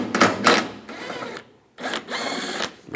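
A ratchet with a 10mm socket loosens a nut on a 1997–2001 Honda CR-V headlight assembly, short bursts of clicking close up with a brief pause between.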